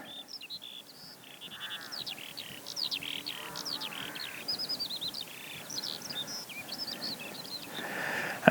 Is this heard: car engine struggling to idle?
no